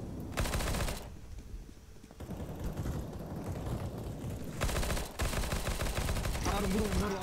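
Gunfire in the shooter game CS:GO, rapid automatic bursts crackling in loud clusters with short pauses between them and a continuous layer of game noise underneath.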